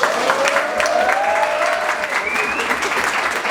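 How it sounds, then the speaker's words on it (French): An audience applauds a new athlete at a fitness class, loud dense clapping from a crowd with a few faint voices and whistle-like tones over it. "on peut l'applaudir"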